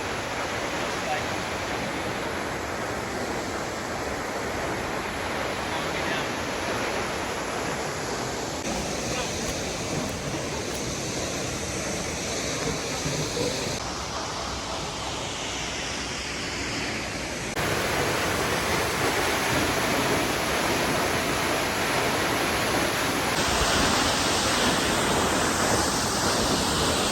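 Catarata del Toro, a Costa Rican waterfall, roars as a steady broadband wash of falling water, loud and continuous throughout with slight shifts in level, no distinct voices standing out.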